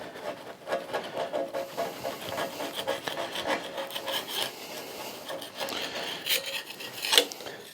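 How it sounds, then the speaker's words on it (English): Hand scraping of loose paint from a New England shaper machine: repeated close rasping strokes in an uneven rhythm, with a few sharper scratches toward the end. "we'll just give this a light scraping, don't go too deep, but just get rid of any loose paint"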